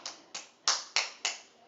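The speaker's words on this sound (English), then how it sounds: "Oh yeah, stop clapping." Five sharp hand claps spaced about a third of a second apart, close and crisp, each with a quick decay, in a quiet room.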